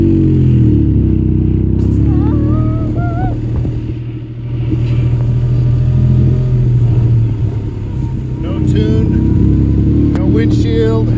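The untuned engine of a Locost 7 kit car, which has no windshield and no front fenders, rumbles loudly and steadily as it drives up close. It dips briefly twice, and voices exclaim over it.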